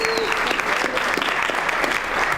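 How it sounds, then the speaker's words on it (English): Steady audience applause at a college elevator pitch competition awards ceremony, a dense continuous patter of many hands with no one speaking over it. "Let's give her a nice round of applause."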